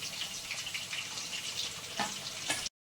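Potato pieces sizzling in hot oil, frying to a golden colour, give a steady bright crackle and hiss that runs unbroken and then cuts off abruptly.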